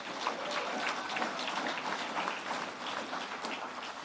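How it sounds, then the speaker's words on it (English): Applause from an awards-ceremony audience at the Fieldays Innovation Awards evening, a dense, even wash of many hands clapping at moderate distance for several seconds, with no voices above it. "Again, a round of applause for Fleece Grow."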